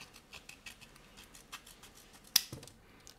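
A Leatherman Surge multitool blade slices through a thick paper manual, giving a series of faint, quiet scratching cuts with one sharper snap partway through, close by and without talking.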